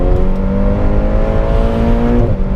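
A Ferrari Portofino with a turbocharged engine accelerates hard, giving a loud, steady engine drone whose pitch climbs smoothly and then dips near the end, close by.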